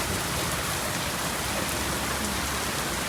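Heavy rain falls in a dense, unbroken hiss that stays loud and steady throughout, with no pauses or voices.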